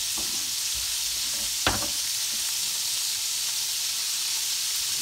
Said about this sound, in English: So y'all can see them frying there in the skillet.